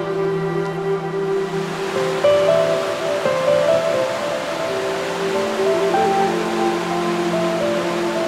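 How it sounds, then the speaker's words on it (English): The River Bollin flows steadily beside a mill near Little Bollington, a continuous broadband rush of water with no talk, holding an even level throughout. "we have to cross the River Bollin, the river that feeds the mill"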